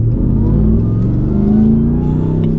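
A Ram TRX pickup's supercharged V8 revs loud and close, a deep steady roar that swells and holds without any voices.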